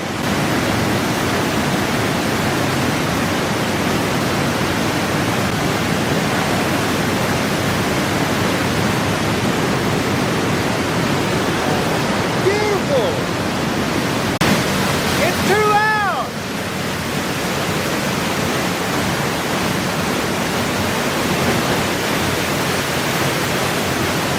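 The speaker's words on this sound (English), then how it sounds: "This is all spray from the waterfall." A constant, loud roar of rushing, spraying water from a waterfall in the Rockies fills the whole scene without letup, with a voice briefly audible partway through.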